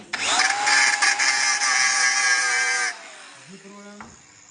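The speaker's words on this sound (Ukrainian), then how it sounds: "Можна перевірити болгаркою." An angle grinder whines loudly against metal for about three seconds, then winds down as the disc slows.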